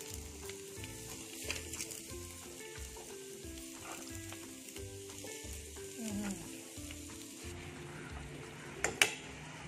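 Onion frying in oil with curry leaves and green chilies, a continuous sizzle with stirring scrapes and a few utensil clinks near the end, no talking.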